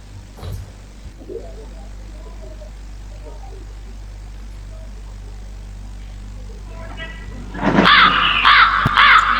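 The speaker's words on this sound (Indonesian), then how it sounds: "Itu burungnya dikurung dulu." A caged bird lets out a run of harsh, crow-like caws, loud and close near the end, after a stretch of quiet background hum with people talking.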